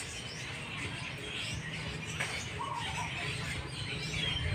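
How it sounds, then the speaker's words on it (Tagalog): Many birds chirp outdoors in a busy, noisy flock, their light tweets scattered and fairly faint over a constant hiss of open-air ambience. "Love the sound of the birds."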